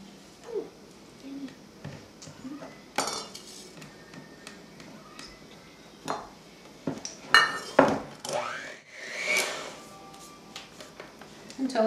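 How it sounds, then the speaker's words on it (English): A utensil scrapes around the sides of a mixing bowl of cake frosting in short, uneven scrapes and clinks, with a few louder knocks. A voice is faintly audible at times. "and scrape the sides."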